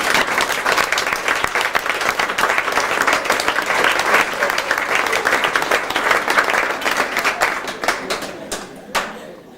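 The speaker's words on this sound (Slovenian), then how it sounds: "Tudi zato en kompleten aplavz." A party audience at Šmarjetna gora in 1997 claps in loud, dense, sustained applause for about nine seconds, thinning out and fading near the end.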